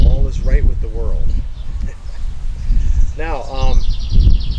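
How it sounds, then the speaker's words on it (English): Songbirds sing on a summer day among watered flowers, several bright chirping phrases rising near and clear over steady wind and outdoor rumble. "I got birds singing"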